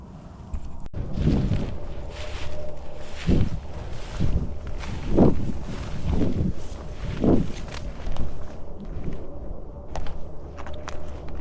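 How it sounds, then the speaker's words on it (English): Wind blows outdoors during a public-land rifle deer hunt, heard as gusty low buffeting that rises and falls against the microphone, along with a few soft thumps like footsteps. "Alright, wind's picking up a little bit."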